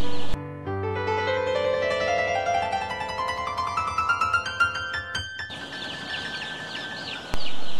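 Broiler chickens in a coop, fifteen days old, cluck and cheep in a steady overlapping chorus with rising calls, close by, then a busier, noisier flurry of clucking toward the end.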